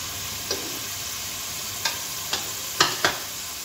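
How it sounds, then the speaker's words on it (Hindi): Garlic and ginger sauté in a pan under a steady, hissing sizzle, broken by five scattered scrapes or knocks of a spoon stirring against the pan, close by and with no talk. "अब ये इसी के अंदर अच्छी तरह से भुनाई हो जाएगी, इसकी लहसुन अदरक की भी महक निकल जाएगी।"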